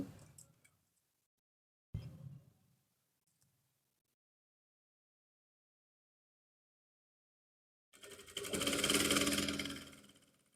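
A sewing machine stitches pants fabric, a short buzzing run near the end after scattered clicks and quiet pauses.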